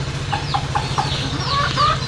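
Young chickens cluck in a quick series of close, sharp calls as they fly down from a rooftop at a farmyard home in the morning.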